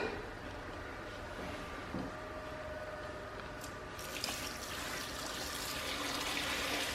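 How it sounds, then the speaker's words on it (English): Boiling water pours and trickles steadily over pineapple in a container, a soft continuous splashing that brightens partway through before easing off. "I will put the hot boiling water on top of my pineapple"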